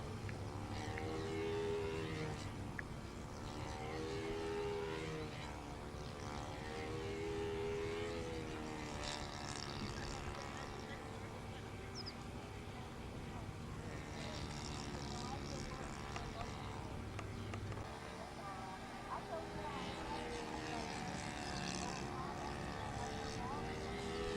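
A model airplane flies at a national model aircraft competition, its propeller engine droning and wavering in pitch as it circles, steady and moderately near, with someone talking over it.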